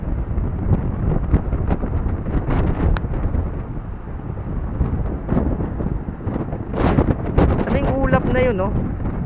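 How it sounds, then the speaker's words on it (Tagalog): Strong gusty wind buffets the microphone at Bagasbas Beach, a constant low roar, with a person talking over it throughout. "Grabe, ang lakas ng hangin."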